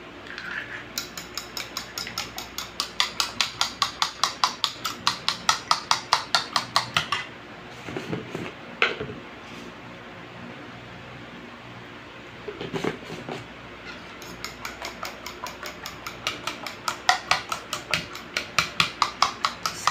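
Scrambled eggs cooked for breakfast, with a utensil beating rapidly against a pan or bowl in fast, sharp, evenly spaced clicks in bursts, broken by a quieter stretch with a few clanks of cookware.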